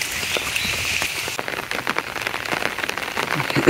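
Rain falls steadily on surfaces in a rural village during the Boro rice season, a close, even patter with scattered heavier drops and no talking.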